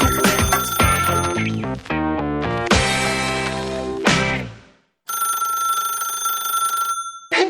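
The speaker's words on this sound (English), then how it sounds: "I can't believe my phone still rings." A telephone rings loudly and up close with a bright, bell-like trill, ringing for several seconds, pausing briefly and then ringing again with no talk over it.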